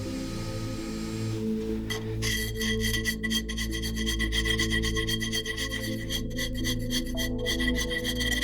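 A metal file rasps against a disc as material is worked down close to template lines, producing steady rhythmic scraping strokes up close, with a constant background hum underneath.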